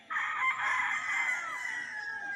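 A rooster crows once, a long loud cock-a-doodle-doo nearby that trails off at the end.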